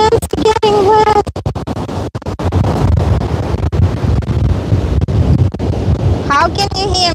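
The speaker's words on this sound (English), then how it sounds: "It's probably too windy." Strong wind buffets the microphone on an ocean shore, a constant roaring rumble with crackles and surf underneath, and a voice is heard briefly at the start and again at the end.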